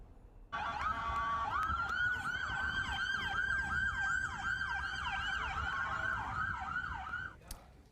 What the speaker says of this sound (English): sirens and evacuations on Capitol Hill today